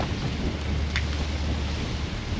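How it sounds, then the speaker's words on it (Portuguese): Steady rain hiss and a low rumble of thunder fill the air outdoors near an old mansion, a constant wash with a brief brighter crack partway through and no voices. "a chuva que tá vindo"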